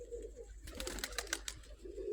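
Pigeons coo in a short burst of calls among flying birds, moderately close over a steady background hum.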